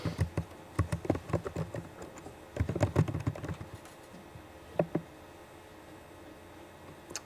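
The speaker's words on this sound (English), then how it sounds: "I'll try to type it right." Fingers type on a computer keyboard in short irregular bursts of clicky keystrokes, close and fairly crisp, with a pause before a couple of final isolated taps.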